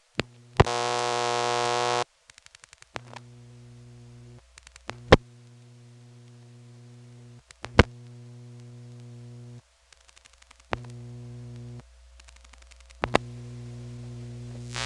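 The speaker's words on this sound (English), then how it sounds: "here's a call to a vacant number" A telephone line on a call to a vacant number through a 1977 all-relay exchange in Pinetown, North Carolina: loud relay clicks and clunks, steady hums and tones switching on and off, and bursts of rapid ticking.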